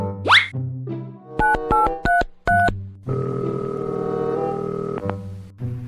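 A quick series of electronic keypad tones, each beep short and evenly paced, followed by a steady ringing tone on the line.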